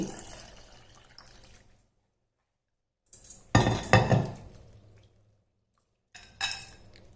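Water poured into a bowl of tamarind and the pulp squeezed by hand, bursts of close splashing and wet squelching separated by quiet gaps, with a faint clink of the bowl.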